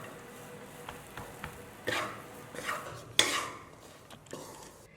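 Cooked rice stir-fried in a wok with a spatula, a soft background sizzle with a few scraping tosses and one sharp metallic clank, fairly quiet and without speech.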